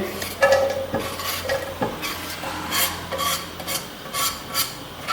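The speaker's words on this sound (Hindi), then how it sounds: "इस प्याज को हम अच्छी तरह ब्राउन करेंगे" Two medium sliced onions fry in oil in a pot for pulao, a close sizzle overlaid with repeated scraping and stirring strokes of a spoon against the pan, no speech.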